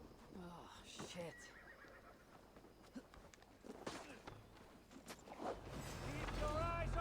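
A horse whinnies amid chaotic video game sounds and shouting voices, with rising rumble and clatter toward the end.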